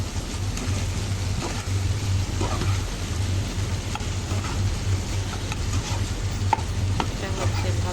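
Tender chopped okra fries in a little oil in a pan, giving a steady, dense sizzle with a low hum beneath it. The sound runs unbroken throughout, and no one speaks.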